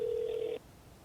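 A single telephone ring tone on an outgoing call, a steady electronic beep lasting about half a second, then quiet line hiss.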